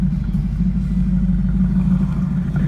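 An automatic car wash runs loudly close by with a heavy, steady low rumble and whir of machinery. The drone holds without pause.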